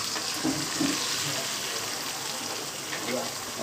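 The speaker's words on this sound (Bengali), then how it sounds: "ফেটিয়ে রাখা ডিমটা দিয়ে দিচ্ছি আমরা" Beaten egg poured into a hot pan for Thai chicken fried rice, giving a steady broadband sizzle with a watery hiss throughout, with faint background noise and occasional low murmurs.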